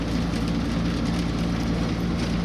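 Steady rain pours over an expressway between Bang Phli and Suk Sawat, a dense, even hiss with a low rumble beneath, continuous and close throughout with no voices.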